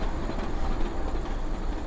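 A rail engineering vehicle carrying replacement rails and tools creeps slowly along the track at night, giving a steady, close, low rumble with faint rolling clatter.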